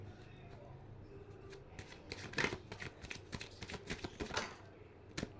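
Tarot cards are shuffled close by for a reading, a quiet run of papery riffles and slaps that grows busier toward the middle and then eases off.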